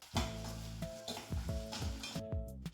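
Sliced onions go into hot oil for mutton dalcha, giving a steady close sizzle with repeated scraping stirs of a utensil against the pan and faint clinks, with no talking.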